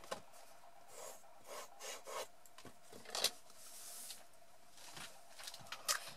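Paper box edges being pressed flat for the lid of a lace-style box, heard as quiet, close rubbing and scraping strokes in short bursts, with no talking.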